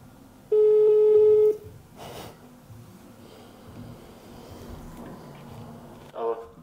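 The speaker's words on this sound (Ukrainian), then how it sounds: "Телефонуємо." A phone call is placed: one long ringback tone sounds for about a second, followed by quiet room noise, a brief rustle and a faint short tone near the end.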